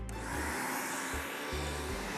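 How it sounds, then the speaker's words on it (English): A vacuum cleaner runs close by with a steady, loud motor whine and broad airy roar, its low hum briefly dipping and surging a few times as it is pushed around. "Don't kick the vacuum cleaner."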